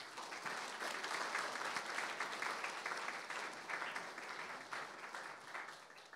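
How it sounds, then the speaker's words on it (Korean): Sustained audience applause fills a hall during an honorary doctorate degree ceremony marking a Korean university's 61st anniversary, a dense, steady wash of clapping that holds loud and even for the whole stretch. "박수와 함께 시작하겠습니다."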